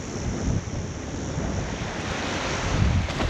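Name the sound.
gusting wind on beach at Lucinda Bay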